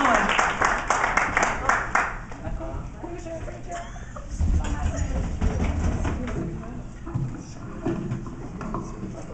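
An audience at a comedy music show clapping in a rhythmic, steady beat for a guitar performer, fairly near, with talk and other noise mixed underneath.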